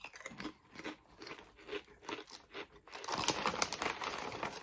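Philippine potato chips, Jack and Jill brand, crunched and chewed close to the mouth: a quick run of crisp bites and crackly chewing that turns denser and louder in the closing stretch.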